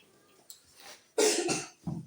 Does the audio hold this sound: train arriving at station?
no